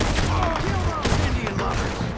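Rapid gunfire in Red Dead Redemption 2 during a chaotic fight with pursuing riders, a dense fusillade of overlapping shots that stays loud throughout, with shouted voices mixed in.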